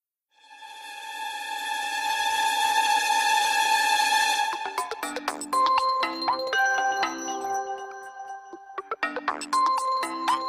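A mobile phone rings with an incoming call, a loud sustained melodic ringtone that shifts into a chiming, rhythmic tune and keeps playing alone for about ten seconds.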